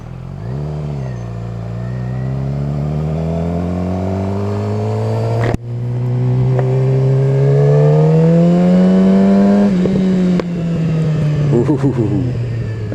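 A 2007 Suzuki GSX-R 750 sportbike engine revs loudly and close by, its pitch climbing and sliding steadily over several long pulls with a brief sharp crack midway, sounding alone without voices.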